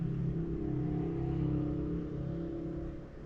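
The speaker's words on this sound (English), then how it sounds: "That is a car out on the street, through the building, out on the street." A loud car on the street outside, heard through a building, gives a steady muffled engine drone with a strong low tone that holds and fades slightly toward the end.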